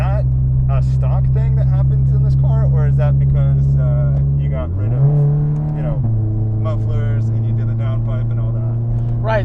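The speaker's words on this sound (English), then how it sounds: "it drones at like almost any RPM that you're at, like as long as you're on the power pretty much." A Toyota GT86 engine drones steadily from inside the cabin, a loud, low hum that rises briefly in pitch before settling again, while people talk over it.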